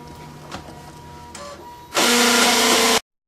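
An office printer starts up after a quiet stretch with faint background noise, then runs with a loud, steady whirring mechanical rush for about a second before the sound stops abruptly.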